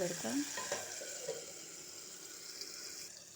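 Potato and tomato curry cooking in oil, a soft continuous sizzle with a few spoon scrapes and clinks early on, close but fairly quiet.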